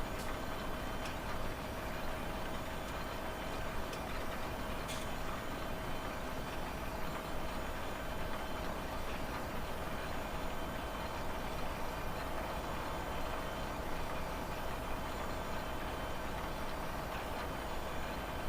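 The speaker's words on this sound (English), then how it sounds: "85 liters an hour on this tractor using the big plow" A tractor engine drones under heavy load while pulling a big plow in the Farming Simulator 17 game, a constant low broadband hum with faint ticking, steady and unchanging with no talk.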